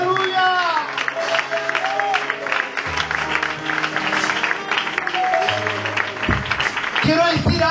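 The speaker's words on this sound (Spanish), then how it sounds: "Fuerte aplauso para el Señor." Church congregation clapping and cheering during a service, a continuous wash of applause with voices calling out and shouting over it throughout.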